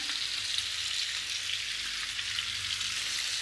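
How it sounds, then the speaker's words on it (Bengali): Cauliflower sautéing in hot oil in a pan gives a steady, dense sizzle that holds at the same level throughout, close and continuous with no talking. "এবার ফুলকপিটা ভালো করে কষিয়ে নেব"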